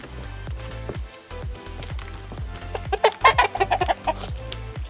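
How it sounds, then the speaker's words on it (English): Chickens cluck repeatedly outdoors near a workshop, a steady run of short calls that swells into a louder, busier burst of clucking toward the end, with no talk. "Chicken whining out there."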